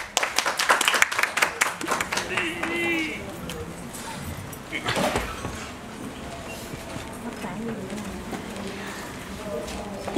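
An audience at a press conference for a liveshow breaks into a burst of clapping that fades over the first few seconds, then gives way to background murmur and voices.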